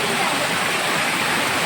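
Kayilai waterfall at Thazhampoo Aruvi, one of many small falls spaced along a rocky stream, roars as a loud, steady rush of falling water filling the whole moment.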